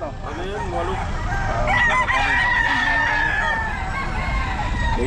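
A rooster crows amid a noisy yard of clucking fowl at the Bocaue pet market in the Philippines, with people talking in the background.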